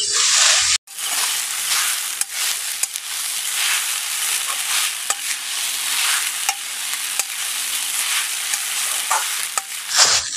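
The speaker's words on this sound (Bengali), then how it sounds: "সাবুদানাটাকে কিছুক্ষণ ধরে একটু নাড়াচাড়া করে ভেজে নেব।" Sago pearls (sabudana) sizzle and get stirred in a hot pan, a steady, close hiss of frying with scraping strokes of the spoon running through it.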